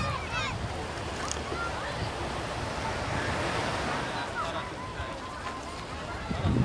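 Sea waves wash steadily against the shore in a continuous, fairly loud rush, with wind buffeting the microphone throughout.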